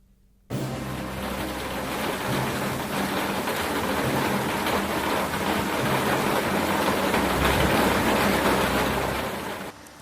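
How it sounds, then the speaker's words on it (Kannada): Heavy rain pours down during a hot summer spell in Karnataka, a dense, steady roar that starts abruptly and continues loud and unbroken throughout, with no voices. "ಬಿರು ಬೇಸಿಗೆಯ ಕಾಲದಲ್ಲೇ ರಾಜ್ಯದ ಹಲವೆಡೆ ಮಳೆ ಅಬ್ಬರಿಸ್ತಿದೆ"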